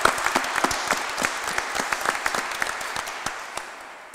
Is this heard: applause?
yes